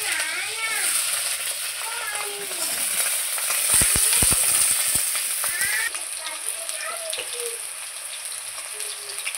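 Cut, washed potatoes drop into hot oil already tempered with a bay leaf and two dried red chillies, setting off a loud, steady sizzle with a few close clatters of the pan, as a voice talks over it.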